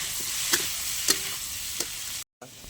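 Turmeric is stirred into food frying in a pan: a continuous close sizzle with a few distinct scraping stir strokes, briefly cutting to silence near the end.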